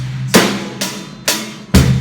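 Pop rock kit beat with kick drum, backbeat snare and steady eighth-note hi-hat: four strong, evenly spaced strikes, each with a deep thump beneath a bright crack, played alone and close.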